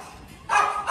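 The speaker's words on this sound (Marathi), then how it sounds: "कुत्रा बुबू करतोय लाडूला" A dog barks twice in the second half, two sharp, fairly close barks after a quiet start.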